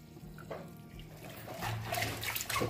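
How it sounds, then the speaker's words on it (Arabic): Moroccan mallow (khobiza) leaves being washed in water, a soft close splashing and trickling with small sloshes and drips, fairly quiet throughout and without talk. "من بعد كنغسلوها مزيان داك التراب اللي كيكون فيها"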